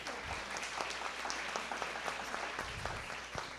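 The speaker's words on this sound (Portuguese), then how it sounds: "queria pedir também licença à mesa para a gente dar uma salva de palmas para o trabalho deles." Audience applause in an auditorium after a presentation, a steady, moderate round of clapping from a crowd that holds for several seconds without a break.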